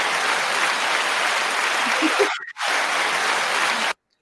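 A lecture audience breaks into sustained applause, a dense, even wash of clapping that briefly drops out midway, then resumes before cutting off abruptly near the end.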